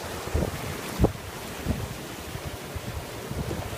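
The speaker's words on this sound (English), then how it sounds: "The waves coming in." Sea waves roll in to shore as a low, continuous wash, heavily buffeted by wind against the microphone, with a few soft surges and thumps, fairly faint and without voices.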